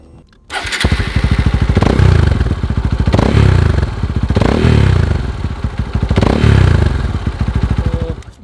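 A Hero Xpulse 200 motorcycle engine with an aftermarket muffler idles and revs close by, its deep, throaty exhaust rising and falling in several surges.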